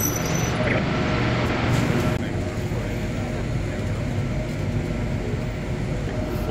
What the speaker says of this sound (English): See our train coming. Man, these are long trains.